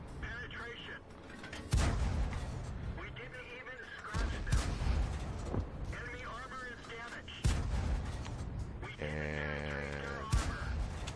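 Tank cannon shots in a tank battle video game, several loud booming blasts spaced a few seconds apart amid engine rumble and mechanical clanks, with someone talking over them.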